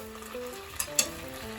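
Yakitori chicken sizzles steadily in a pan with a soy sauce seasoning, a continuous close frying hiss with two brief sharper crackles partway through, and no talking.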